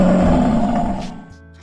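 A loud, close lion roar sound effect, one sustained growling blast that fades away after about a second.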